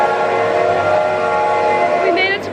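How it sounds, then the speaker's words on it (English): The Hogwarts Express at the Warner Bros. Studio Tour platform 9 3/4 in London gives off a loud, steady mechanical hum and hiss with a sustained tonal drone, and a brief high whistle-like tone comes near the end. "We made it to platform 9 3/4, and the train is making noises."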